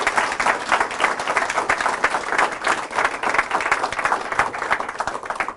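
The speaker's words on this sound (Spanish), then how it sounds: "Fuertes aplausos a Jesús de Nazaret." Loud, steady applause from a church congregation honoring Jesus of Nazareth, dense clapping sustained evenly from start to finish with no voices standing out.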